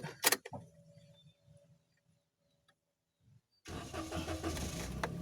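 A car engine cranks and starts with loud bursts near the beginning, settles into quiet idle with a faint hum, and after a pause the car's interior fills with a louder, steady running roar, with no talk.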